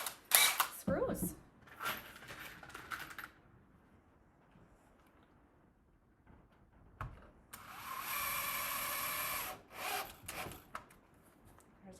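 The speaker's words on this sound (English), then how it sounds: "I'm going to switch to my T10 bit, and I'm going to put in my last 3" A power driver with a T10 bit sets screws into wood for a solitary bee hotel, giving a few short whirring bursts and one longer steady run between quiet pauses, with speech in between.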